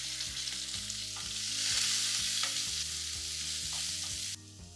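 Onions sizzle and fry loudly in hot ghee with cumin seeds, bay leaf, curry leaves and asafoetida, a steady close crackle with faint stirring clicks throughout.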